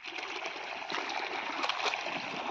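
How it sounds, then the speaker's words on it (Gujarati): Irrigation water gushes and splashes into a cumin field, a close, continuous rushing flow with small splattering bursts throughout. "એ આવ્યું પાણી તો આવ્યું"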